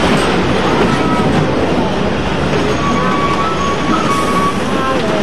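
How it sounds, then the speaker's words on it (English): A locomotive train coming around a corner on a railway near Port Douglas: a loud, steady rumble of wheels and rails with faint squealing, continuous and close throughout. "Now we're going to see the locomotive coming around the corner."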